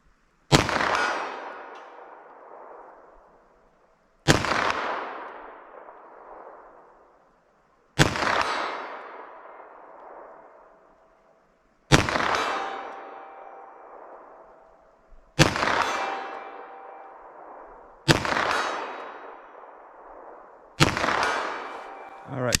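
Seven sharp 9mm handgun shots fired at steel targets 75 yards away, spaced a few seconds apart, each a loud crack with a ringing metallic decay; no talking.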